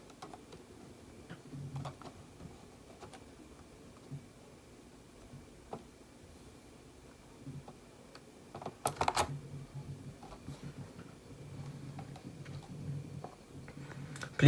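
Keys on a computer keyboard, including the shift key and a restart button, tapped and clicked at close range in an irregular series of soft clicks, with a firmer cluster of presses near the end and no talking.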